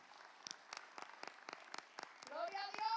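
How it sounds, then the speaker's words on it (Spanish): A church congregation claps in a steady, evenly spaced rhythm, soft and somewhat distant, before a voice rises over the beat near the end. "Démosle un aplauso al Espíritu Santo de Dios."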